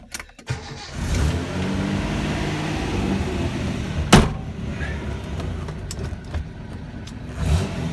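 A one-owner, completely stock 1972 Datsun 240Z is started on choke: a click and brief cranking, then the engine catches and settles into a steady idle, with a sharp knock partway through, heard close up.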